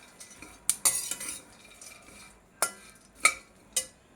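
Dates, pumpkin seeds and other dry fruits are dry-roasted in a pan over low heat and stirred, giving a few sharp scraping clinks of a spoon against the pan over a quiet, faint background.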